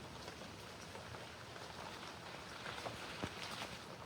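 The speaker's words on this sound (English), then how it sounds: "The rain appears to be dying down." Steady light rain pattering on leaves outdoors at a campsite, a faint even hiss with scattered drips, no voices.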